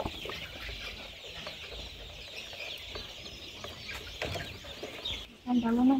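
Village hens kept inside a coop give a short, close burst of clucking near the end, over steady outdoor background noise.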